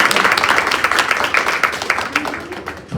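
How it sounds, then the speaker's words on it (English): Audience applause at a pitch competition, a broad wash of clapping that holds steady for about three seconds before thinning out at the end. "Round of applause for Sarah."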